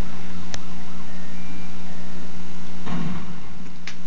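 An ambulance siren in the video game GTA Vice City wails with a steady, droning tone, moderately loud against a low background hum, with a couple of brief clicks.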